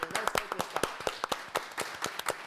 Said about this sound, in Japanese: 皆様に大きく拍手をいただければなと思います